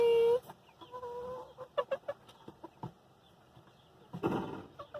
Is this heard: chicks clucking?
yes